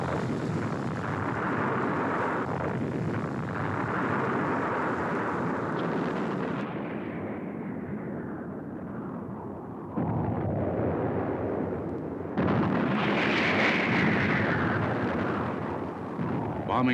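Continuous roaring explosions from airstrikes bombing a jungle supply trail in the Vietnam War, a dense rumbling barrage that holds for long stretches, dips midway, then surges louder again near the end.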